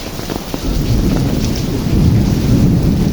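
Steady, dense rain pours down close by, a continuous wash of drops with a low rumble underneath and no voices.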